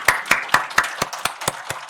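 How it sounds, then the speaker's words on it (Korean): A small church congregation claps at a midnight New Year's Eve service, about nine distinct, evenly spaced claps that slowly lose rhythm and fade a little, close and clear with no talk. "새해를 주신 하나님께 영광의 박수 올려드립니다."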